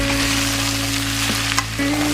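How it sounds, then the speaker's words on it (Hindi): Boiled potatoes frying in a pan over a low flame, a steady, even sizzle with a constant hum beneath it and a couple of faint spoon scrapes. "अब मैं 8 से 10 मिनट तक इनको धीमी आंच पे रख दूंगी और बीच बीच में हिलाती रहूंगी जब तक आलू करारे ना हो।"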